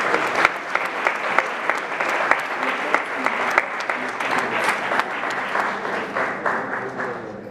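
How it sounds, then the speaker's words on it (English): Audience applause for award recipients at the KIC Challenge Finals, a young entrepreneurs' event in Ghana: sustained, fairly loud clapping from a large crowd with sharp individual claps standing out across the whole stretch. "Please, a big round of applause to"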